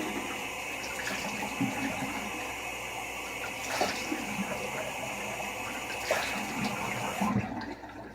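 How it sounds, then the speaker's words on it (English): Tap water runs steadily into a sink as a face is rinsed, with splashing bursts over a constant hiss, close by and moderately loud, cutting off near the end. "Rinse my face now."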